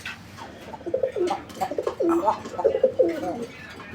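A male pigeon coos close by in a series of soft, throaty, rolling calls over a few seconds.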